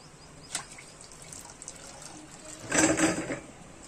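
Water poured over a small deity idol during a home puja, faint splashing and drips that swell into a louder pour near the end, close and without speech.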